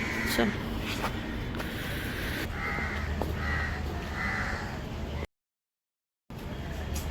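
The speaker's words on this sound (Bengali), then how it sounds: "সুন্দর বেশ পাখিদের আওয়াজ" Crows caw repeatedly beside the Ganges river, a series of harsh calls at moderate distance over steady outdoor ambience, with people talking and footsteps nearby before a brief gap of silence.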